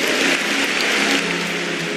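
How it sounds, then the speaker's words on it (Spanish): Congregation applauding during a church service, a dense continuous wash of many hands clapping together at close range and steady volume. "Clap."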